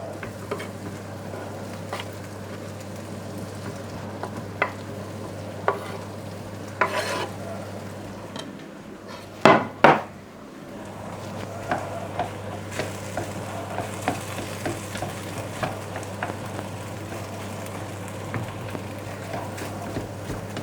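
Corned beef pie filling simmers and is stirred in a pan. A steady low bubbling sizzle runs throughout under scraping spoon strokes, with one sharp double knock of utensil on pan near the middle, and there is no talk.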